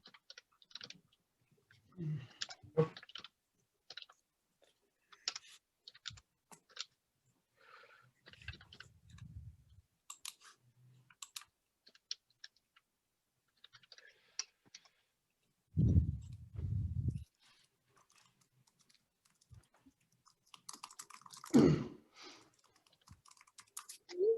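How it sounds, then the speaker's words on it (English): Computer keyboard typing in irregular bursts of close, crisp key clicks, with pauses between runs and a few louder thumps, heard alone in a quiet room during a study group session. "while I'm typing this up"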